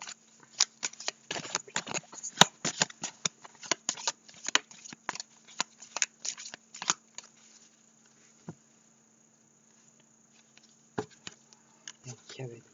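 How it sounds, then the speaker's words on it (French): Paper Lenormand oracle cards are shuffled and laid out close by in a quiet room, a rapid run of crisp flicks and snaps that thins to a few scattered card slaps near the end. "Je vais recouvrir avec les cartes mystiques de Mademoiselle Lenormand."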